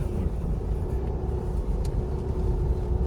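Road traffic in Delhi rumbles along at a steady level, a constant low drone of car engines heard from inside a vehicle, with a faint higher whine and no talk.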